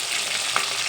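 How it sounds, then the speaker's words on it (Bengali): Fish shallow-frying in an oil-filled pan gives a steady, close hiss of sizzling that holds evenly throughout, with one brief spatter standing out near the middle. "এই মাছেরও এক সাইড ভাজা হয়ে গেছে, আমি মাছটাকে উল্টে দিয়েছি"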